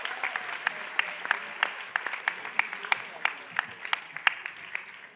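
A modest audience at a quiz competition claps for the qualifying teams, with sparse, distinct individual claps in an uneven rhythm rather than a dense roar.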